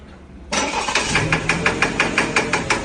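A car engine cranks and catches after half a second of quiet, then runs close and loud with a regular rhythmic knocking pulse repeating several times a second through the idle.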